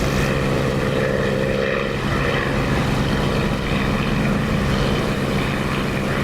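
A propeller aircraft engine drones steadily at about 2,700 RPM in the DCS flight simulator game, a loud, even, unbroken hum with a constant tone throughout.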